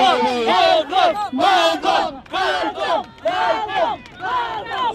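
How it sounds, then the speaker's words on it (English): A crowd of Duterte supporters at a protest in the UK shouts and cheers in rhythmic bursts, with loud voiced whoops rising and falling several times over five seconds. "Can we give him a big round of applause?"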